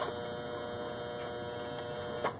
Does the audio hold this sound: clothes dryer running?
yes